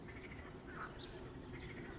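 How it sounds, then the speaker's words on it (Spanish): Small ducks quacking softly a few times, fairly faint, outdoors near water over a steady background hiss, with no voices. "Acá hay patitos. Patos."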